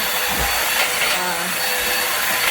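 A vacuum cleaner drones continuously and loudly up close on smoky carpet after a house fire, its motor whine steady with slight shifts as it moves across the floor.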